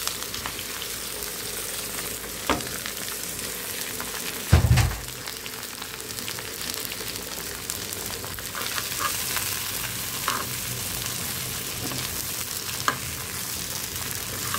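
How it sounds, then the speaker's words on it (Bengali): New potatoes fry in oil with turmeric, producing a soft, steady sizzle with scattered stirring taps and one louder knock partway through, with no voices. "আলুটার একটু ভেজে নিচ্ছি তেল দিয়ে, হলুদ দিয়ে"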